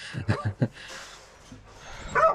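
A dog evacuated from the Ukrainian frontlines barks three times in quick succession, close and loud, then goes quiet before a brief high whimper or yip at the end.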